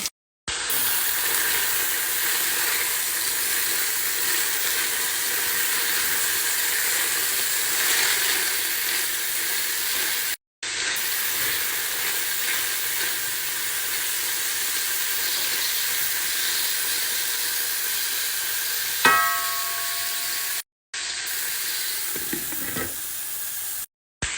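Carrots and peas fry in a pan with a steady, close hiss and sizzle that runs unbroken apart from a few brief cuts, with a faint clink near the end.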